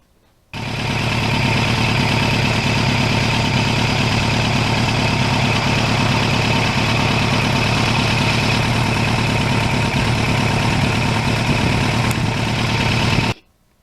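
The engine of a 1989 Kawasaki Ninja GPX750R motorcycle cuts in abruptly and then holds a loud, steady, close drone with a constant hum throughout, stopping sharply near the end.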